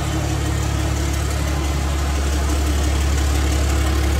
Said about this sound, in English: Cold start. I've never heard this truck run yet with the new hood stack set up.